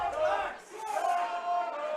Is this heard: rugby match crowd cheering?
yes